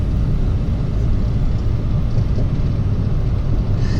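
A Ram truck driving fast on the road, its steady loud low rumble of engine and road noise filling the cabin without a break and no one talking.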